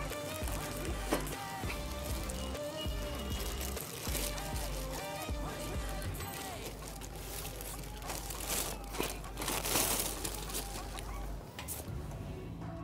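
Plastic wrap being pulled and crinkled off a newly unboxed Bajaj Deluxe 2000W room heater, steady rustling and crackling up close with a low hum beneath.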